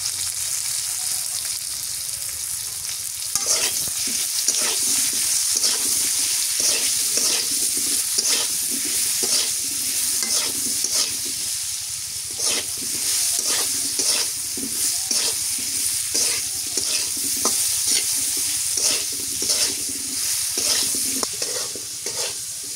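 Potatoes sizzle in hot oil with salt, chili powder and turmeric as a utensil scrapes and stirs the pan, steady frying hiss broken by repeated close scraping strokes.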